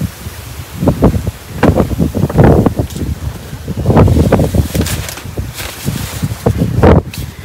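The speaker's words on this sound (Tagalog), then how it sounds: "Magpapayong pa kasi ang hangin-hangin nililipad nga yung payong eh." Gusty wind strong enough to blow an umbrella buffets the microphone in loud, irregular bursts, roaring and rustling close by with no clear voices.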